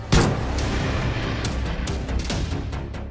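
Gunshots ring out at a village mundan celebration with dancers: one sharp loud crack opens, then a run of fainter irregular pops and echoing reports over a dense crowd and music din.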